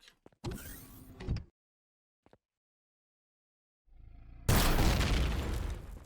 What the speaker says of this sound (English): We'll just try and use the sniper rifle.